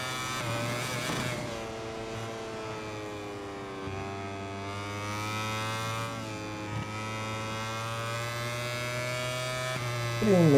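A MotoGP motorcycle engine in the MotoGP 22 video game on the Portimão circuit, a sustained high-pitched drone that holds fairly steady with slight pitch shifts, under a voice talking.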